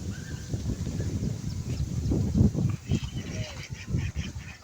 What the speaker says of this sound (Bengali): দেখো বন্ধুরা, সব হাঁস খেলা করছে এখানে।